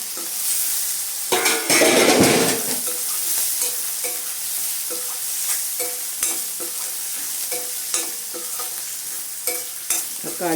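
Ginger garlic paste and tomato frying for a Punjabi-style baby potato gravy make a bright, close sizzle, with a loud burst as ingredients hit the oil, then steady stirring scrapes at a regular pace and no talk.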